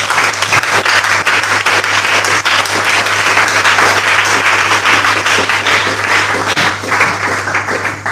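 A church congregation breaks into loud, sustained applause and cheering to acclaim Jesus during a sermon. The dense clapping holds steady throughout, with no speech over it.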